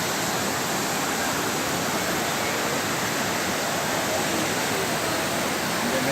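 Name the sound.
waterfall in Munnar, fuller after yesterday's rain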